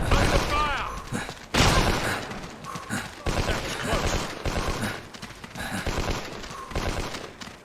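Dense bursts of gunfire in the WWII shooter Hidden & Dangerous II, rapid volleys and single shots piling up loudly and continuously, mixed with game voices and clattering mechanisms.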